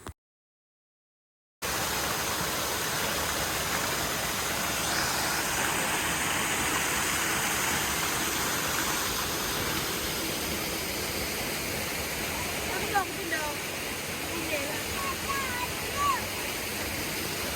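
Water pours down a hillside waterfall that is running low, near a bridge on a mountain trail. After a brief silent start, a steady, full rushing roar fills the scene, with a few faint bird chirps near the end.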